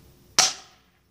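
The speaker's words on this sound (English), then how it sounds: "BB gun set up, and we are going to go shoot right now." A pumped BB gun fires once into a row of 30 solo cups, a single sharp close crack that decays into a short plasticky ring within half a second.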